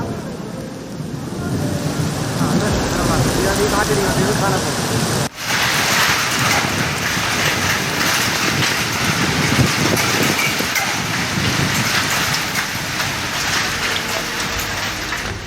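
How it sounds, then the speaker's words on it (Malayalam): Heavy summer rain with hail pours down in Kollam, Kerala, in a dense, continuous roar, close and loud, with a brief dip midway before the downpour resumes. "കൊല്ലത്തും ശക്തമായ മഴ പെയ്തു"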